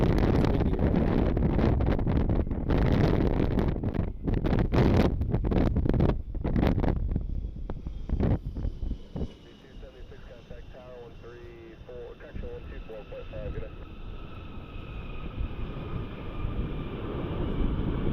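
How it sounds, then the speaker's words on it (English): Strong, gusty wind buffets the microphone at a Cleveland airport, loudest at first and then easing into a steadier rush. Someone talks over it. "Have to really deal with the weather. It's windy right now."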